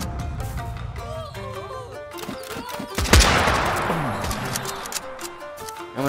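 Gunfire from the Wild West campaign of the video game Totally Accurate Battle Simulator crackles as scattered shots and one loud volley, set against game music and effects.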